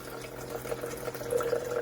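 Water streams steadily from a SimPure Y7P-BW UV countertop reverse osmosis filter as it dispenses a 12-ounce serving, a soft continuous pour running close by for about two seconds with no talking.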